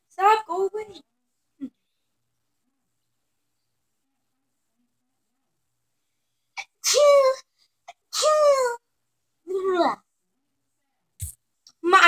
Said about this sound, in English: My sneeze.